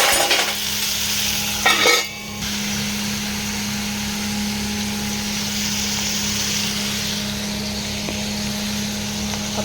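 Ingredients fry in a pan with a steady broadband sizzle throughout, a brief stirring clatter near the start, and a constant low hum underneath; close and moderately loud, no talking.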